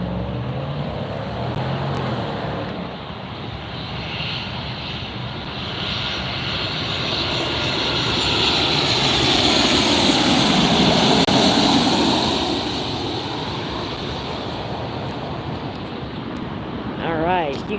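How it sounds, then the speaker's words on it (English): A Delta Airlines Boeing 737 from Salt Lake City arrives at LAX at night. Its broadband jet roar builds steadily toward a peak in the middle, then eases off as it passes. Faint talk sits underneath. "Next flight is a Delta Airlines Boeing 737 from Salt Lake City. That's going to be arriving."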